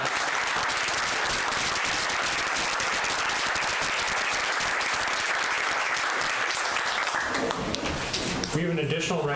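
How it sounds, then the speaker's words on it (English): At a city council meeting, an audience gives sustained applause for members who have served, dense clapping filling the room until it tapers off and a voice begins speaking. "Can we have a round of applause for all those members who have served?"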